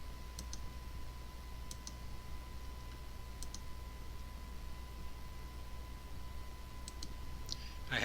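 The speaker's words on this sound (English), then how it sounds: "So if I click anywhere on this browser," A computer mouse clicks on a browser window, sharp faint clicks in pairs spaced a second or two apart over a steady background hiss.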